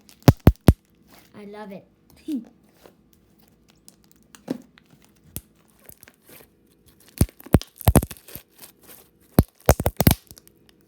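Thick homemade slime being squished and popped, giving a series of sharp, loud pops and crackles in bursts near the end, with someone talking briefly in between.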